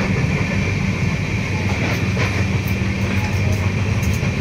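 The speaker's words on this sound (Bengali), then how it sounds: "এখন আমি রয়েছি রাজধানী এক্সপ্রেসে, যেটা হাওড়া থেকে ছাড়ে" Interior of the Rajdhani Express from Howrah in motion, with a loud continuous low rumble of wheels on rail, a steady hiss and faint metallic clicks and rattles throughout, and no speech.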